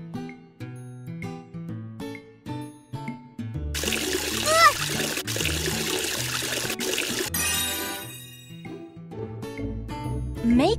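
Cartoon splashing of water while washing faces in a kids' game, a burst of pouring and splattering that lasts several seconds, set between plinking music notes and a few chirpy effects.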